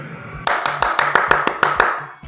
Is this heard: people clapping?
yes